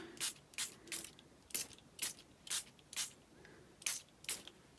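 An ink spray bottle squirted repeatedly onto a craft project, about ten short sharp pumped spritzes in an uneven rhythm, close and fairly quiet with no talking.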